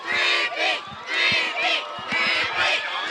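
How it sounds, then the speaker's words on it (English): High school football crowd at a San Dimas versus Bonita rivalry game chanting "three-peat" in loud, rhythmic shouted bursts that swell and dip across the stands. "the San Dimas crowd is saying three-peat"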